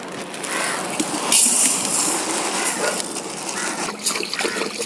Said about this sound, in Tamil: இப்போ இந்த பிரியாணிக்கு பாஸ்மதி ரைஸு தண்ணியில் போட்டு ஊற வச்சுக்கலாம்.